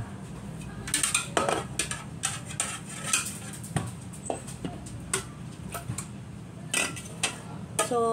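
Cooked pumpkin being mashed in a pot for pumpkin soup, heard as a string of clinks and scrapes of a utensil against the pot, spaced irregularly and close by.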